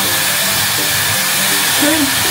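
A hair dryer blows steadily at close range, a loud continuous airy roar with faint voices murmuring underneath.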